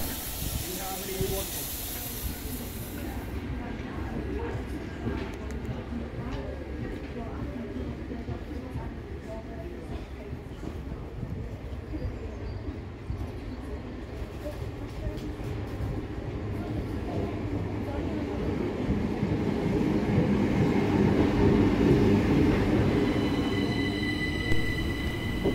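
The steam locomotive Braunton hisses continuously at a station while being rewatered, with a low rumble of rail noise, growing slightly louder toward the end, with speech in the background.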